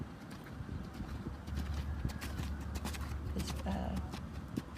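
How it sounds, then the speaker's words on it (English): A horse canters in an arena, hoofbeats thudding in a steady three-beat rhythm at moderate distance while someone talks over it. "first canter of the day is always a little rough for him"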